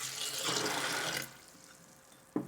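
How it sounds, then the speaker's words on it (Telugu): Water runs into a mixer jar of soaked jowar for grinding dosa batter, a steady close pour for about a second before it stops, then a short clunk near the end. "వాటర్ వేసుకోవాలి. ఇందులో"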